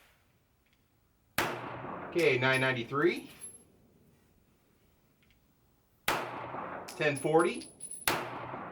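A Taurus G3c pistol fires 115 grain full metal jacket Federal rounds at a range: three loud, sharp shots spaced several seconds apart, with someone talking between them.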